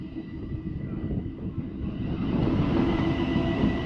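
A Class 700 train arrives at East Croydon station on the Brighton Main Line with a broad, steady rumble that grows louder as it draws near, alone and without talk.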